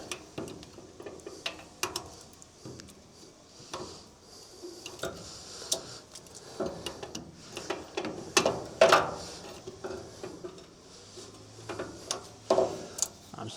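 A 19 mm socket ratchet clicks in quick, uneven bursts of ticks while loosening a brake shoe adjuster on an Ifor Williams trailer, close up, with faint metallic knocks and no talking.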